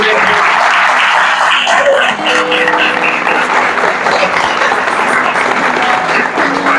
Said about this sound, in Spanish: Vamos a dar un aplauso a Jorge también por hacer esto posible.